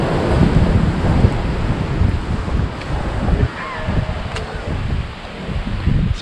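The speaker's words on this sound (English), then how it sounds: "here we are walking out on the Capitola Pier, watching the surfers and the waves" Wind-blown ocean waves and surf washing around Capitola Pier, heard while walking out along the pier; a steady broadband roar with gusty wind noise buffeting the microphone throughout.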